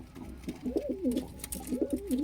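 Pigeons coo nearby in a pigeon loft, soft repeated rolling calls, two bursts of cooing over a light background hum.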